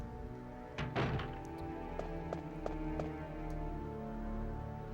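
A locked door in Resident Evil 7 thuds heavily once, followed by several lighter rattling knocks as the handle is tried, close and distinct over a low droning music bed.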